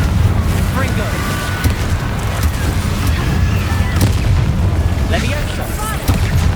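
Confringo fire spells in the Hogwarts Legacy video game burst in repeated booming blasts over continuous loud battle noise, with voices calling out during the fight.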